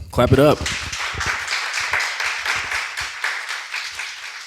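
A studio audience claps steadily for several seconds at a real estate podcast, following a brief voice at the very start; the clapping stays moderately loud and even.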